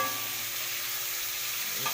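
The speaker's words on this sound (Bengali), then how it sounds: "আমি মাছ ভাজাও বসিয়ে দিলাম।" Singi fish frying in a pan makes a dense, even hiss of sizzling oil close by, steady throughout with a faint utensil touch at the end.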